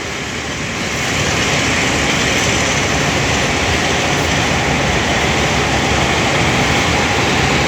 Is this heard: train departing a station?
yes